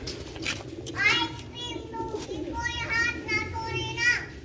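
Breeder pigeons coo in repeated soft throaty phrases close by, mixed with children's voices and light background chatter.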